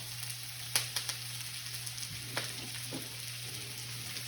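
Eggplant and broccoli stir-fry in oil in a small pan, producing a soft, steady sizzle broken by a few brief pops and scraping stirs, quiet and close, with no talking.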